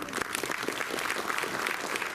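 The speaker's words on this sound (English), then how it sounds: "Let's welcome the round of applause." An audience at the inauguration of a science film festival in Goa applauds steadily, a dense, even patter of many hands clapping at once.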